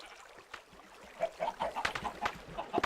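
Chickens in the Minecraft video game cluck in short repeated bursts, several clucks closely spaced and growing busier toward the end, with no talking.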